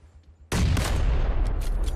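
A sniper rifle shot from an AWM in the PUBG video game, a sudden loud blast that starts half a second in and rolls on in a dense, sustained booming echo with no talk over it.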